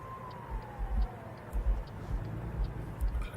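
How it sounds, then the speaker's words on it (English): Police car siren in American Truck Simulator, a faint wailing tone sliding downward in the background over the steady low rumble of a truck engine hauling about 41 tonnes of big stones. "police car."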